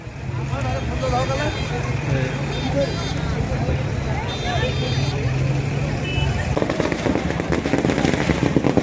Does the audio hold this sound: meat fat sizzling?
no